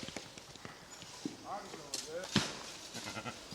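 A four-day-old goat kid bleats a few times in a quavering cry, close by, with outdoor farm noise and light knocking sounds around it.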